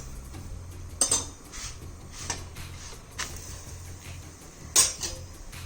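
A metal spatula scrapes and taps in a pan while oil is spread over a Gujarati methi thepla, giving several sharp clinks and scrapes spaced about a second apart over a low cooking hiss.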